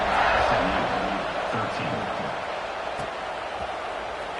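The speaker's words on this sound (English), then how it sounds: "this crowd is buzzing after that last score" A stadium crowd at an SMU college football game buzzes after a score, a dense, steady roar of many voices that eases slightly after the first second or two, with talk in the foreground.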